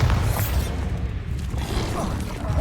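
Bombarda explosion spell cast in the video game Hogwarts Legacy, a loud, dense low booming blast that rumbles steadily throughout with no clear break or tail.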